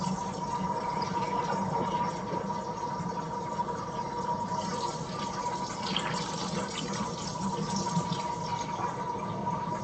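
Water pours steadily into a pot of fresh blackberries for a cobbler, a continuous close-up filling rush with a faint ringing tone, running unbroken for about ten seconds without talk.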